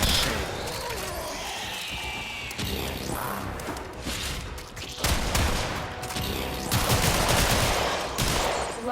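Rapid gunfire in Warframe, a shotgun blasting repeatedly in quick bursts over busy combat noise, with clanking mechanisms and whooshes, loud and close.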